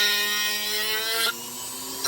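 Power carving tool with a barrel bit grinding into the wood of a carved cardinal: a steady high whine with a constant pitch, close and loud, dropping slightly in intensity partway through, with no talking.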